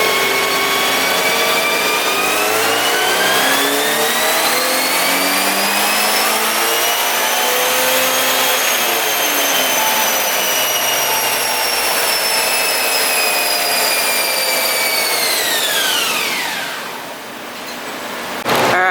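A Subaru BRZ race car engine on a dyno holds a loud, steady, high-pitched mechanical roar as it climbs through the revs, then drops away near the end, heard alone with no talking.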